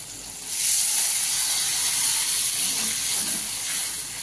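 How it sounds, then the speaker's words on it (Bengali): Broth poured into a hot pan of prawns with crushed garlic and green chilli, setting off a sudden loud hissing sizzle that holds steady close by. "এবার আমি দিয়ে দেবো ঝোল।"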